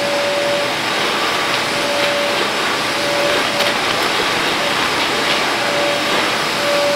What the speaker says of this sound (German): wenn ich zuerst mit so einer ganz normalen Staubsaugerdüse solche Fußmatten einfach mal absauge